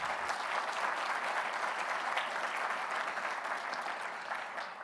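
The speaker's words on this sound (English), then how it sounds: "Please give her a round of applause." A large crowd at a military ceremony applauds a chief master sergeant with steady, even clapping throughout. It holds at moderate loudness and eases slightly at the end, with no talk over it.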